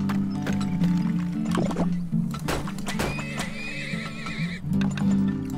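Game horse in Turmoil whinnies loudly over a steady droning music bed, with a rhythmic clip-clop of hooves running throughout, close and clear.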